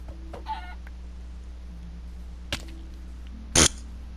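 A Minecraft chicken clucks twice, briefly and sharply, with a short faint cluck early on and a louder burst near the end over a steady low game hum.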